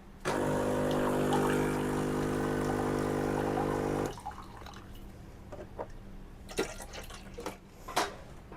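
A Dolce Gusto Genio S capsule coffee machine runs a plain-water descaling rinse: a loud, steady pump hum with water flowing for about four seconds, then it stops, leaving faint drips and small knocks.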